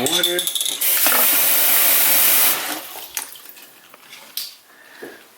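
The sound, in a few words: kokedama moss ball being soaked in water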